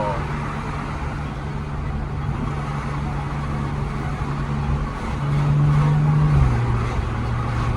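Inside a BMW M135i, the engine hums as a steady low drone before swelling louder as the car accelerates, then settling back.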